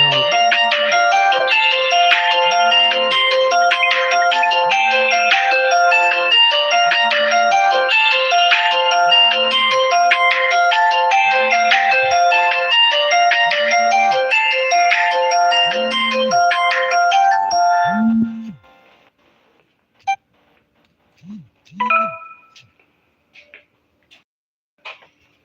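A phone ringtone from an unanswered incoming call plays a bright, repeating electronic melody for about eighteen seconds, then cuts off, leaving near silence broken by a few faint clicks and soft knocks.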